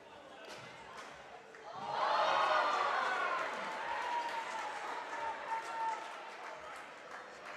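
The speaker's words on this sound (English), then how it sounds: "And the crowd responding to their hometown hero." Crowd at a Major League Pickleball showcourt match in Melbourne bursts into applause and cheering after a point, swelling after two seconds and holding steady under a commentator's voice.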